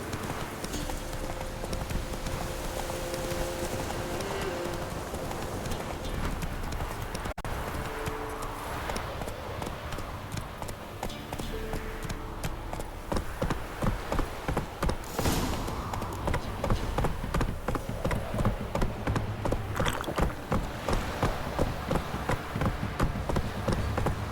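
Roach the horse's hooves in The Witcher 3, a steady clip-clop that starts at a walk and quickens into a brisk, regular gallop over game music and ambience.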